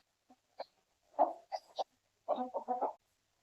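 Chickens cluck in short, separate bursts after being let out of their coop at home, a few near, soft calls spread across the moment against a quiet background.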